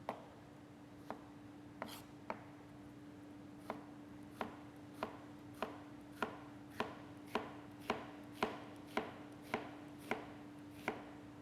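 A knife chops vegetables into julienne strips on a cutting board, each stroke a crisp, close tap, roughly a dozen evenly spaced cuts in a steady rhythm over a faint background hum.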